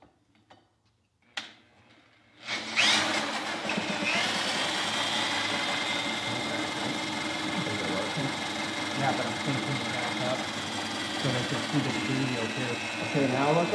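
A Honda UT3 engine is spun by hand up to about 1200 RPM, its steady whirring, ticking mechanical drone starting after a brief quiet patch and running loud and even at close range, with a voice faintly audible underneath.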